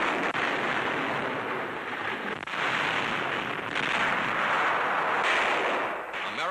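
An Allied artillery barrage in 1944 Italy rumbles as a dense, continuous wash of distant booms and crackle, heard as a muffled, noisy recording with no distinct speech.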